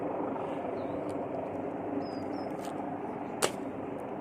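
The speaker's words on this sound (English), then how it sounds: "That's the Coast Guard helicopter." A distant Coast Guard helicopter drones steadily in the background, with a faint whistle and one sharp click partway through.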